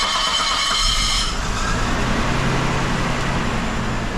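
A Nissan Skyline R34 engine catches and settles into a steady low idle, close by and fairly loud, with a brief higher-pitched burst at the start.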